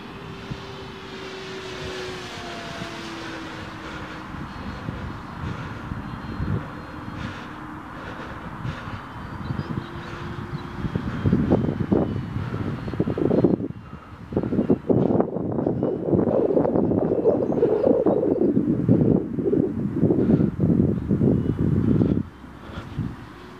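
An FMS BF109 model airplane flies in gusty wind, its electric motor whining steadily at first, then mixed with heavy buffeting wind rumble on the microphone through the second half.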